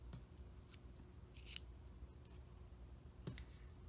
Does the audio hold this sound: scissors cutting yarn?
yes